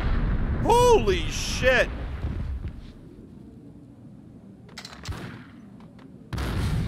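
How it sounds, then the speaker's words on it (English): A grenade explodes close by in the shooter game Max Payne, giving a heavy, rumbling burst, while someone shouts an excited exclamation over the action. "That grenade blowing up right on me."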